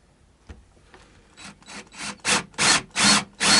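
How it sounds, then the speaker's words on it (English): A chisel cuts and scrapes wood on a guitar body during a pickup change. The strokes come in a steady run of rough, rasping pushes that grow louder and more regular, heard close up. "And then you end up having to do the rest with chisels."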